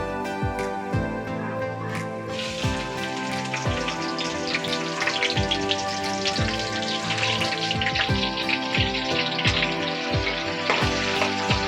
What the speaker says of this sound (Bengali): তেলটা গরম হয়ে গেছে। এবারে আমি এর মধ্যে পেঁয়াজ ছেড়ে দেবো।